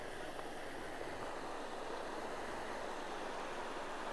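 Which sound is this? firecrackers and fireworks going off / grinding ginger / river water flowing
river water flowing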